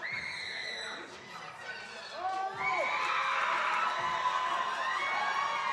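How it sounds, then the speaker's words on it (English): Crowd cheering and shouting in support of a female lifter at a powerlifting world championship, a steady, loud roar of voices with whoops rising midway and holding to the end. "The crowd is giving her their support."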